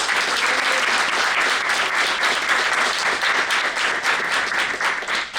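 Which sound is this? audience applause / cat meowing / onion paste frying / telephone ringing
audience applause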